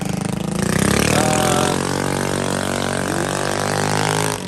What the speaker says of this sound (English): aka Loud Motorcycle.